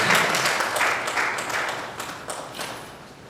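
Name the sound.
church congregation applause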